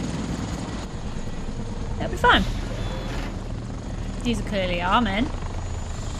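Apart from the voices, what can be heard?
cinematic helicopters in the video game Fuse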